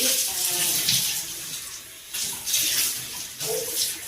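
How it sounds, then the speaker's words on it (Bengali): Water runs steadily with hissy splashing surges while a baby is bathed, the flow rising and falling over a few seconds at close range. "সোনা স্নান করছে।"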